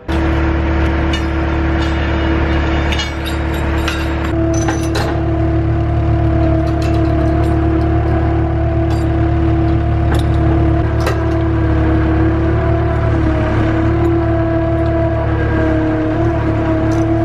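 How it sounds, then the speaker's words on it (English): A skid steer engine drones loud and steady throughout, a constant close diesel rumble with whirring hydraulic tones and occasional clanks as it drives toward a rock picker on a farm. "I'm gonna twist on in there with the skid steer, grab that rock picker"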